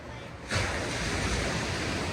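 Ocean surf rolls onto an American beach, a steady broadband roar that swells in suddenly after half a second and then holds loud and continuous, with no voices.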